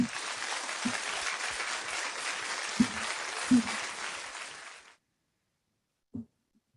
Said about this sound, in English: Let's give a big round of applause to Anthony Giardi for his first place presentation